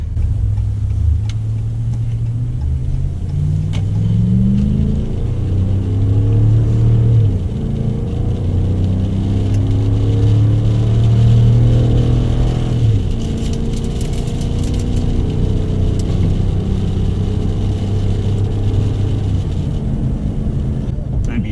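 A 2017 Ram 1500 half-ton pickup with a Hemi gas engine pulls away onto a main road towing a 25-foot RV travel trailer, its low engine drone climbing steadily in pitch through the gears, with a voice talking briefly over it.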